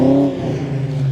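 A 1990 Ford Mustang LX Fox Body Notchback pulls away, its loud engine note falling from a strong rev into a steady lower drone over just over a second.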